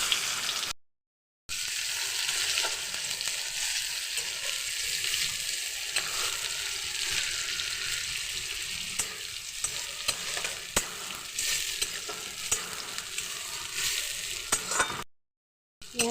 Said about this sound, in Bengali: তো পেঁয়াজ কুচিটা এবার দিয়ে দেবো।